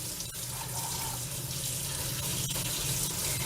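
Cold tap water runs steadily over cooked potatoes in a kitchen sink, a continuous broadband splashing hiss that stays close and fairly loud, alone with no talking.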